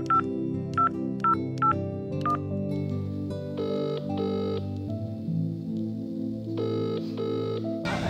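A telephone keypad is dialed with a quick run of distinct DTMF tones, then longer paired tone bursts, all over a steady background hum; no speech is heard.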